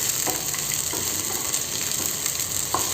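Tamarind and onions frying in oil for a spicy Andhra-style sesame and peanut chutney, a steady loud sizzle with a few faint stirring taps and no voices.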